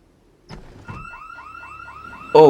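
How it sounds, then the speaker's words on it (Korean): A house intrusion alarm in the zombie survival game Project Zomboid goes off after a couple of knocks, a repeating electronic warble that pulses rapidly and ends in a loud harsh burst. "이런. 침입 경보기가 울려버렸습니다."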